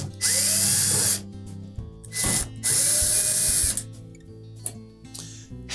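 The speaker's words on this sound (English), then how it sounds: "next we'll remove the screws across the top" Power screwdriver backing screws out across the top of a Samsung dryer, with several loud whirring bursts separated by brief pauses and faint clicks of handling in between.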